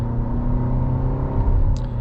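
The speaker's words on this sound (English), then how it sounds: "Engine makes a lot of noise. You can hear that. It sounds kind of angry a little bit." A 2019 Nissan Rogue SL engine droning and straining under acceleration from inside the cabin, a steady loud hum with rising tone, no talking.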